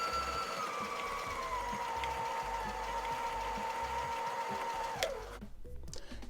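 Sewing machine stitching panels of light and dark denim jeans, a close, steady mechanical whir that holds for about five seconds, then stops abruptly, leaving rustling handling noise.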